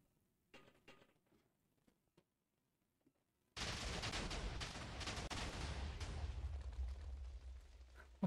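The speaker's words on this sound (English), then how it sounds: "see what happens when you toss a grenade into a bunker filled with radioactive barrels?" A grenade explodes inside a bunker packed with radioactive barrels in modded Minecraft, a sudden loud blast followed by a sustained roaring, crackling rumble. Faint sounds come before it.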